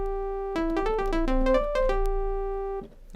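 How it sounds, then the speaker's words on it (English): Synthesizer playing a sawtooth wave: a buzzy, bright, harmonic-rich tone in a short melodic phrase of quick stepping notes, settling back on a held note that cuts off, alone and clear. "That's the sawtooth wave,"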